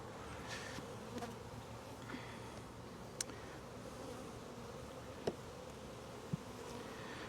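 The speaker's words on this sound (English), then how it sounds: "Bees are being pretty calm towards me." Honey bees swarming around an open hive in April, a dense, continuous low buzz close by with a few sharp clicks of handling, no talking.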